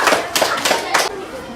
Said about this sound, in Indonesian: beri tepuk tangan buat kelompok 3